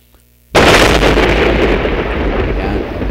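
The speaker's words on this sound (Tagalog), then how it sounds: "Isahan putok lang yan, ha?" A single powerful gunshot, apparently a shotgun blast, goes off abruptly, loud and close, followed by a long rolling, rumbling reverberation that fades slowly; no talking.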